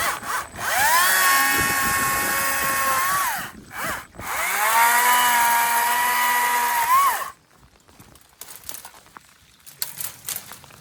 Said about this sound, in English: I'm just going to use the chainsaw to take out